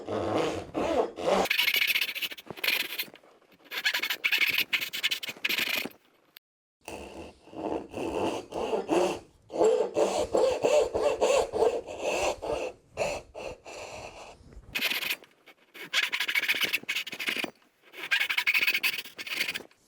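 Fine-tooth hand saw cutting wood for a half-blind dovetail joint, repeated rasping strokes in bursts with short pauses between, close and fairly loud with no talking.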